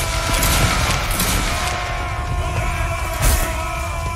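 Musket volley fired on command in a Napoleonic Waterloo battle video game, a dense crackling burst over continuous loud battlefield din and shouting, with a second louder surge of fire near the end.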